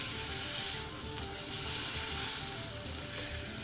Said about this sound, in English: I'm just going to sear this side a little bit as well